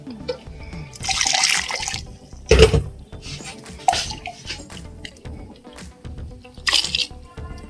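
Water poured into a gobi egg ghashi curry, cooked Konkani coastal style, in a few separate splashing bursts with quieter clinks and gaps between them and no talking.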